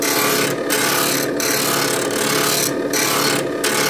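A blade's primary bevel being ground on a grinder, a loud continuous abrasive rasp with several short bursts of brighter, harsher grinding as the steel meets the wheel.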